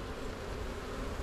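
A swarm of honey bees being smoked off comb during hive work gives a dense, steady buzzing drone, close and continuous throughout, with no voices.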